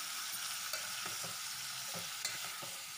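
Chopped tomato pieces go into hot oil with green chilies for a brinjal tomato curry, a steady bright sizzle with repeated scraping stirs of a spoon against the pan, no voices.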